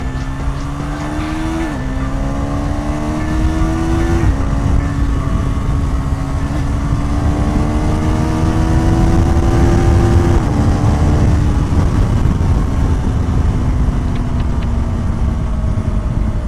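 A KTM Duke 390 Gen 3 motorcycle engine drones loudly, its pitch climbing then dropping abruptly at several quick quickshifter upshifts, with steady road and wind noise throughout.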